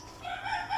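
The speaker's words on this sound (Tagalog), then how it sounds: "We'll check the chickens." A chicken calls outdoors in a short, rising crow-like cluck that is clear and moderately close.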